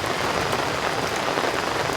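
Steady rain drums on a campsite tent, a dense, even patter close by with no pauses and no voices.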